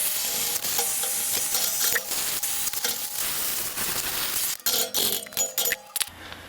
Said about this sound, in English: I'm just going to get in here and torch a couple of holes out, egg it out, oblong it